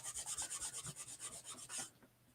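Cloth from an old cut-up t-shirt rubs back and forth over a chalk transfer on a sanded wooden block, making a steady, close, rhythmic swishing rasp of about a dozen strokes that stops near the end.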